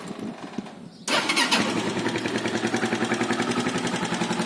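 A Viper 200 F5 motorcycle engine cranks briefly, then catches and settles into a loud, even, rapidly pulsing idle close by, with nobody speaking.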